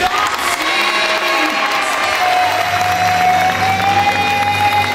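An audience at the Miss Aisne 2017 beauty pageant applauds candidate number 7 with loud, sustained clapping mixed with cheers and scattered shouts, while background music plays faintly underneath.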